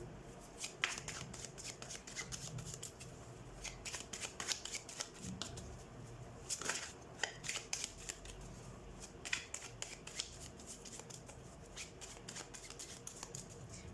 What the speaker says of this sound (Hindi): हम कार्ड शफल कर लेते हैं